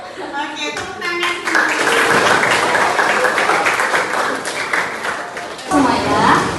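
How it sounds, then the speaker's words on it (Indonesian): A classroom of students applauds together after a presenter's prompt, dense steady clapping filling the room with voices mixed in, a brief lull near the end before a renewed burst. "Oke, tepuk tangan."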